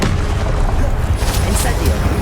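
A Confringo spell blast in Hogwarts Legacy, a dense, loud burst of explosive crackle filling the short moment, close up with a few sharper hits toward the end.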